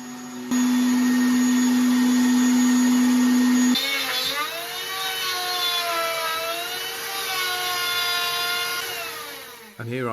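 A router on a router table easing the corners of a wooden workpiece with a chamfer: a loud, steady high-pitched whine that holds for a few seconds, then the pitch sags and wavers as the bit bites into the wood and carries on without voices.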